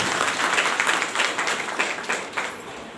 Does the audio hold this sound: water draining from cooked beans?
no